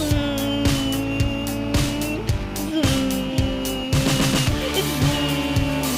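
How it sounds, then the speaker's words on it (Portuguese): A car in a video game drifts with its engine revving in repeated rising and falling bursts and tires squealing, loud and close, with a voice talking over it. "Olha o drift."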